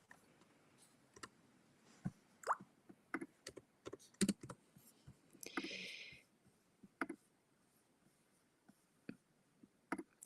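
Quiet, close computer keyboard typing comes in irregular scattered clicks and short bursts, with one brief longer rustling sound midway and no talking.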